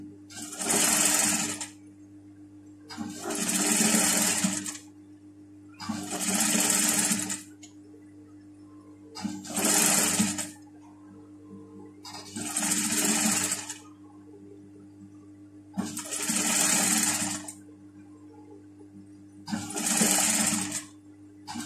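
A sewing machine stitches pyjama fabric in seven steady bursts of fast, buzzing needle clatter, each a second or two long and separated by short pauses over a constant low motor hum.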